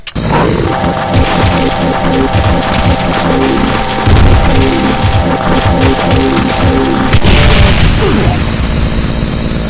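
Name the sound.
Doom mod Mancubus ground explosion attack, from a video game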